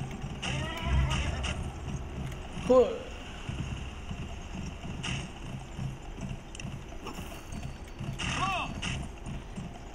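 A horse whinnies a couple of times over rhythmic clip-clopping hooves in a game, with a brief spoken exclamation.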